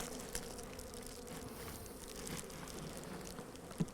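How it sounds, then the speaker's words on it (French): Honeybees hum softly in an opened hive with an insulated aluminium-foil partition board, making a faint, steady buzzing drone broken by occasional light rustles and handling knocks. "On a de l'abeille dans cette ruche là"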